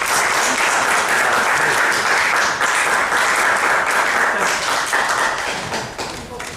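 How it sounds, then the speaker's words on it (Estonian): An audience at a lecture breaks into sustained, dense applause that holds steady and loud before tapering slightly at the end. "aplaus."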